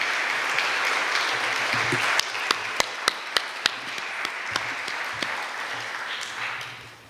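An audience claps after a talk, a steady wash of applause with a few louder individual claps standing out near the middle before the clapping fades away at the end.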